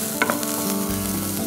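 Onions cooking in a pan, a steady sizzle with brief stirring scrapes near the start, close and continuous for a moment, with no one talking.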